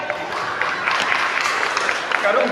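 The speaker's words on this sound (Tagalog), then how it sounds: "Palakpak lang mo suportahan." A congregation claps during a church worship service, a short burst of dense, steady applause with voices mixed in.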